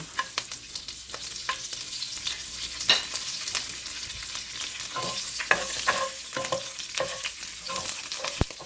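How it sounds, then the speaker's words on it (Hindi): Curry leaves and green chillies dropped into hot oil, a bright crackling sizzle with sharp sputtering pops spread irregularly across the moment, close up with no talking. "चलिए मैं डालती हूँ ये ऑयल में।"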